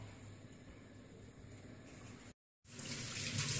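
Tap water runs steadily from a faucet into a sink while someone wets their face, a soft continuous wash that cuts out briefly before returning slightly louder.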